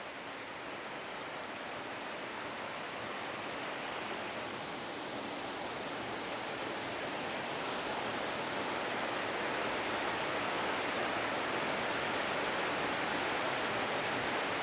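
Steady broadband rush of a waterfall at Melton Mill Branch Falls on the Obed Wild and Scenic River, close and continuous, slowly swelling slightly louder with no voices.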